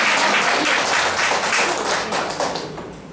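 An audience at a reading-circle lecture applauds, a dense, steady wash of clapping that holds for a few seconds and then eases off slightly toward the end, with no voices over it.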